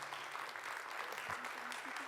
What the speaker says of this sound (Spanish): Un aplauso, por favor, para la doctora Prachiti